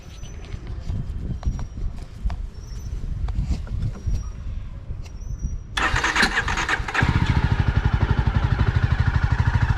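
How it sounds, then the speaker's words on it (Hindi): A Jawa motorcycle, left parked for a week, turns over and catches on the first try, its single engine settling into a loud, steady, rapid idle thrum after a brief cranking burst. "अभी बाइक स्टार्ट करेंगे और लेट्स सी कि कितने सेल्फ में या कितने टेक में ये स्टार्ट होती है।"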